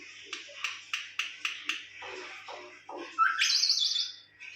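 A pet myna bird gives a quick series of sharp, evenly spaced chirps, then lower gurgling notes and a longer, louder whistling call, all close and clear.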